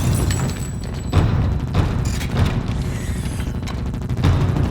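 Rapid bursts of gunfire tear through a hallway during a violent action-film shootout, loud booming impacts repeating over a dense, continuous din of crashes and debris.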